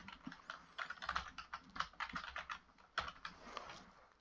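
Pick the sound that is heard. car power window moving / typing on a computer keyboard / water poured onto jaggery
typing on a computer keyboard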